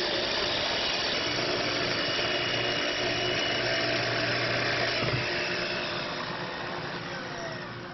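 Power saw cutting wood along a guide, a steady loud whining hum with a faint low rumble, slowly easing off toward the end of the cut.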